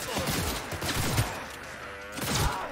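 Gunfire in the video game Cyberpunk 2077, a dense burst of rapid shots and impacts in two clusters with fainter rattling between, fairly loud and close.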